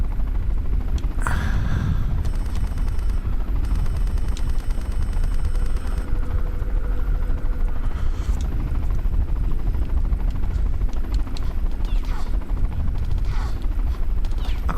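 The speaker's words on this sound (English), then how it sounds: "no, that's the helicopter" A video game helicopter hovers with a steady rotor drone in Tomb Raider Chronicles, punctuated by bursts of rapid gunfire and a brief gasp, all continuous and fairly loud throughout.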